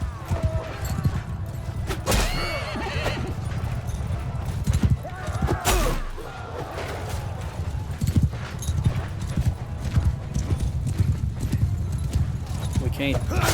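Horse hooves clip-clop in a rapid, steady gallop beneath continuous talking, with an occasional whinny and scattered battle noise in the background, in the video game Mount & Blade II: Bannerlord.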